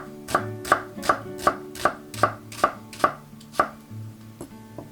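Red onion being chopped very fine with a knife on a cutting board, about eight crisp, evenly spaced blade strikes close up, then a brief pause and a lighter final tap.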